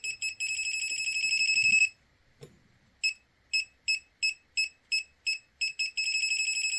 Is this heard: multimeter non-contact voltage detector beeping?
yes